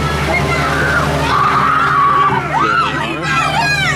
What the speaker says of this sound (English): Guests screaming behind us at the end of Splash Mountain.